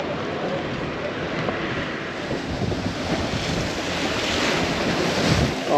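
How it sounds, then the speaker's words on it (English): Sea waves along the Antalya seafront, a steady broadband wash of surf with wind buffeting the microphone, continuous and moderately loud with no talk. "We've arrived back in Antalya and are gonna walk down to check out the sea"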